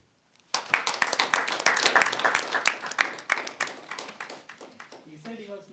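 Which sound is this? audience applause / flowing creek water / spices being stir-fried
audience applause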